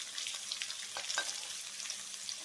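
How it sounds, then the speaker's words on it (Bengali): Paneer pieces frying lightly in oil give a soft, steady sizzle with faint crackles and a brief stir near the middle, low and close, with no voices. "সামান্য একটু ভেজে হালকা করে ভেজে নিতে হবে"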